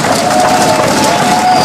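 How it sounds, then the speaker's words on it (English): Loud tennis crowd at a Pattaya women's tournament cheering and applauding the winner after the match, a dense continuous roar of clapping and voices. "And now she comes out to take the acclaim of the crowd."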